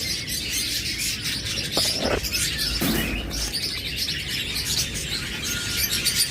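Caged pet birds, including lovebirds, budgerigars and finches, chirp and tweet in a busy, steady chatter. The calls are moderately close over a constant background hiss, with a couple of brief louder knocks midway.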